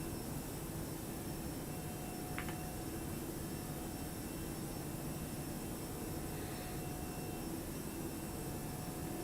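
Airliner jet engines climbing in the X-Plane 11 flight simulator, an A321 cockpit setting, heard as a steady broadband roar throughout, fairly quiet and unchanging.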